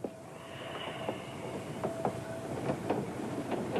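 A train rolls along its rails with a steady rumble and a sustained hiss, broken by periodic clacks and knocks from the wheels.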